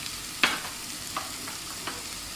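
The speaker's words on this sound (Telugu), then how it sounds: "దీంట్లో బంగాళదుంప ముక్కలు వేసి వేపుకోవాలి" Potato pieces frying with fenugreek leaves in a pan, a faint, even sizzle with a few soft, scattered stirring clicks, close but quiet.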